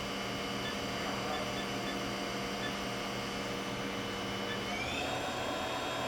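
Spindle of a Haas VF4 vertical machining center whirs at high speed in its high range, a loud steady mechanical whine with tonal hum that rises in pitch near the end as it speeds up further.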